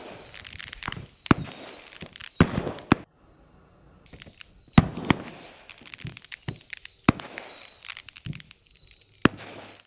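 Synthesized fireworks from a visionOS Loki fireworks app: sharp cracks and bangs with whistling, descending sizzles, loud and near, bursting irregularly over ten seconds with a brief lull in the middle.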